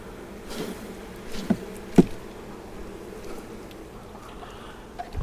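Honey bees swarm around an open beehive during a frame inspection, a steady close drone of buzzing with a few faint knocks and taps.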